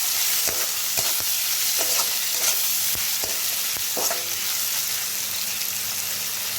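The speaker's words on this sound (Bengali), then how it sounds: "এইভাবে আমি প্রথমে কিছু সময় সিম আঁচে ভেজে নেব পেঁয়াজগুলোকে" Chopped onions with salt frying over low heat in a pan, a steady close sizzle broken by sharp, irregular knocks of a spoon stirring against the pan.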